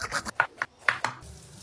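Eggplant is cut on a board for frying, with a handful of sharp, close knife chops in an uneven rhythm and quiet gaps between them, and no talking.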